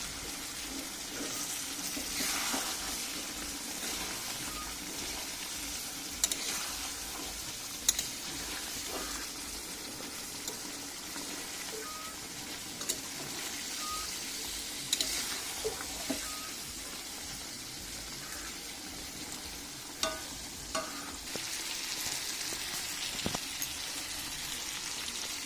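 Goat meat being sautéed in a pan with potatoes and fat, a low steady sizzle running throughout with occasional small pops and clinks of stirring, fairly quiet and with no talking.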